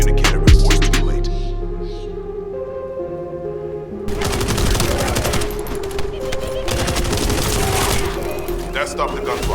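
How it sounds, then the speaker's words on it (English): Rapid video-game gunfire rattles in dense automatic bursts during a large-scale attack on a communications relay base, with a brief quieter stretch before a sustained, loud volley. "That stopped the gunfire."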